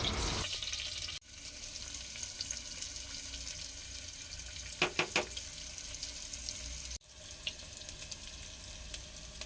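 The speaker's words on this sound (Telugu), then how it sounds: "ఈ ఆనియన్స్ ఫ్రై అవ్వాలి, కానీ మాడిపోకూడదు" Chopped onions frying in hot oil, a soft continuous sizzle at low level with a few brief clinks of utensil against the pan, interrupted by two short cuts.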